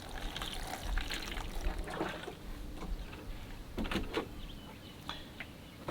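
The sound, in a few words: watering newly sown seeds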